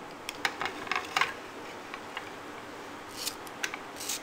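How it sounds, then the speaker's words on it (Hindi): A ripe mango, peeled and stoned, is cut into small pieces for homemade jam, with a few light, crisp knife taps in short clusters, close but soft, and no talking. "इसके छोटे छोटे पीस काट लेंगे।"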